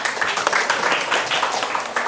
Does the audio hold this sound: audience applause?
yes